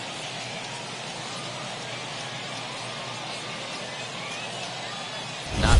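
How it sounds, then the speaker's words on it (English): Steady rain falls across a baseball game in MLB The Show 21, a constant hiss that lasts the whole stretch, with a louder thump at the very end. "Not exactly ideal baseball conditions with the rain."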